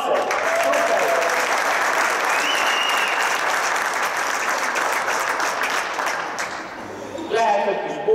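A group claps scattered and unsynchronized at a volleyball focus-training session, a steady dense patter of hands that holds loud for several seconds and then thins near the end.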